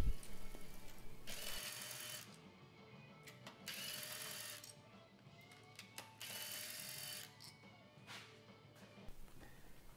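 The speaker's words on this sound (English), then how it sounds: "Now we'll just go ahead and remove the bolts that hold down the coil packs." Ratchet removing coil pack bolts on a 2005 Pontiac Vibe engine, several bursts of fast close clicking with pauses between them, the last ones shorter, with no talk.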